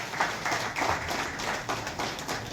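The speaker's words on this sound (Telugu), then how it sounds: "వారికి ఒక్కసారి హృదయపూర్వకంగా చప్పట్లు కొట్టండి." An audience at a temple event claps, a moderate scattered applause in uneven bursts heard at mid distance with no clear speech over it.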